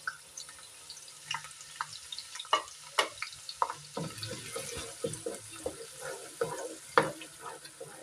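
Sliced onions sizzling in hot oil in an Indian kadai, with soft frying crackle, scattered pops, and intermittent stirring scrapes, fairly quiet and close, no voices.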